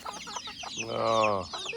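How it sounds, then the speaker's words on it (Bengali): Village chickens cluck and call close by, a few short clucks followed by one longer drawn-out call, with a voice speaking faintly in the background. "গ্রামের অরিজিনাল মুরগি এগুলো।"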